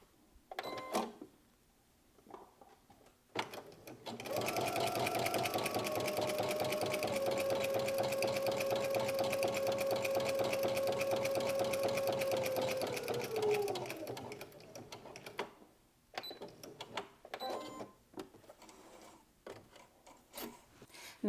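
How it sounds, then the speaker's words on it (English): A sewing machine stitches a seam in fabric, running in a fast steady whirring rattle for about ten seconds, close and clear, with quieter handling noises and brief talk before and after. "we're gonna go and sew another seam within the seam allowance"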